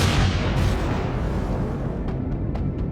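Sustained heavy gunfire in Empyrion Galactic Survival as drones are shot down, a dense continuous roar of shots with a few sharper cracks near the end, loud and close with no talking.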